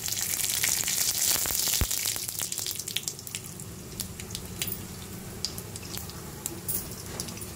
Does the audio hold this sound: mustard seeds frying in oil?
yes